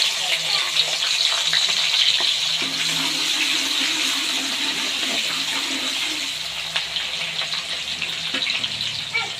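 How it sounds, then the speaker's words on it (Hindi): Sliced onions fry in a generous amount of hot oil for a moringa flower and meat curry, a steady close sizzle and crackle running throughout with occasional stirring scrapes. "प्याज को हम गोल्डन ब्राउन करेंगे।"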